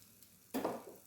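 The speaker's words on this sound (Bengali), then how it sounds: "একটা ফ্রাইং প্যানে নিয়ে নিলাম 1/2 চামচের মতো ঘি, তার মধ্যে আমি মিশিয়ে দিচ্ছি গোটা ধনে খুব অল্প করে, আর দিয়ে দেবো কাশ্মীরি লঙ্কার গুঁড়ো" Ghee with whole coriander seeds and Kashmiri chilli powder in a frying pan gives a sudden sharp sizzle that flares and fades within half a second after near-silence, close and faint.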